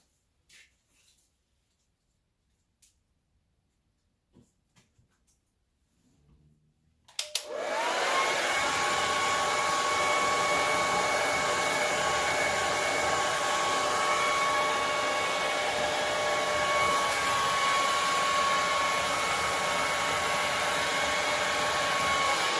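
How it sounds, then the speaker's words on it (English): A handheld blow dryer switches on after a quiet stretch with faint knocks, then roars at a steady, loud, continuous whoosh for the rest of the time. "some say go get the blow dryer"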